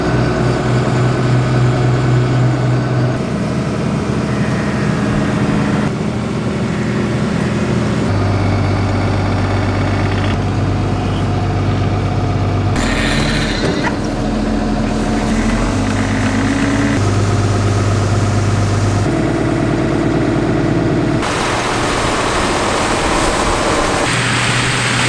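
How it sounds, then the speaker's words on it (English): A farm tractor with a jerky transmission runs loudly and continuously during harvest, its low engine rumble shifting in pitch and character in distinct steps, with no voices. "Jerky transmission is just kind of one of the quirks of this tractor."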